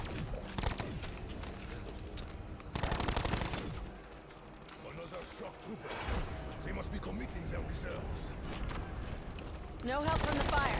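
Bursts of gunfire shooting zombies in Call of Duty: Black Ops 4, with rapid automatic volleys repeating in several bursts over game background sounds, and people talking at the same time.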